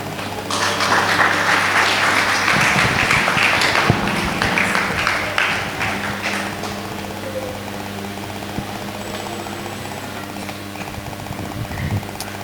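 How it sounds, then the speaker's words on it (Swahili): Applause rises from a church congregation, a dense burst of clapping for several seconds that then fades to a softer patter and low room hum. "Makofi hayatoshi."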